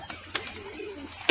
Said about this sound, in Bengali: অর্থাৎ হাত বাজি পায়রা রয়েছে